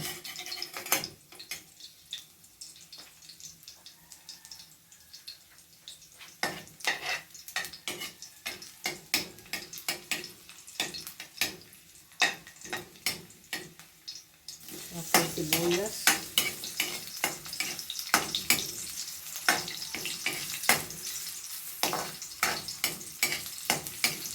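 Garlic fries in hot cooking oil with a steady crackling sizzle, broken by repeated scrapes and stirring knocks in the pan; the frying swells louder and busier partway through, close by and without talk.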